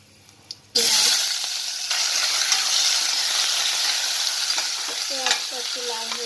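Whole spices (cumin, bay leaf, dried chilli, cinnamon, cracked black cardamom, cloves, cardamom) hit hot oil for mutton curry. A loud, sudden sizzle starts and holds steady, with the scrape and clatter of stirring throughout.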